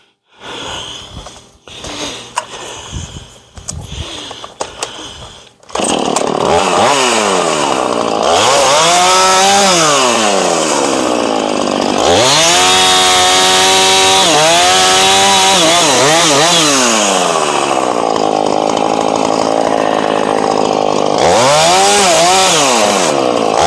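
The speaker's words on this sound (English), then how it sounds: "Get chainsaw going again." A chainsaw cuts junk wood, loud and close. After a few seconds of sputtering starts it roars at full throttle, its pitch dipping and rising repeatedly as the chain bites into the wood.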